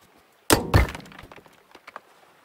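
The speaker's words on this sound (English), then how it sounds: "I want to see whether if I hit that glass, will it shatter?" A glass block in the Rising World game shatters in one sharp crash, followed by a second impact and a scatter of small tinkling fragments that quickly fade.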